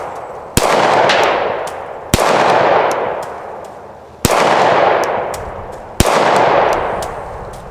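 Four loud pistol shots fired at a 2-liter bottle, spaced about one and a half to two seconds apart, each a sharp crack followed by a long ringing echo.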